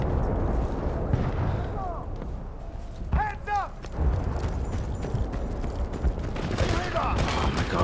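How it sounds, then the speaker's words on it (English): Gunfire in a first-person shooter video game crackles in rapid bursts under a steady noisy game background, with occasional voices in the mix. "who's shooting me to the side?"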